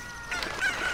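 Cucco chicken clucking in Zelda: Ocarina of Time, a short game sound effect with a bright squawking cluck heard alone, moderately loud and close.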